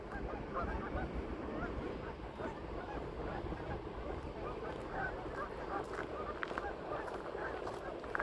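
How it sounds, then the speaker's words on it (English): A large flock of geese gathered outdoors, their overlapping honks forming a steady, dense chatter at moderate distance, continuous throughout with a constant background hum underneath. "Look at all those geese."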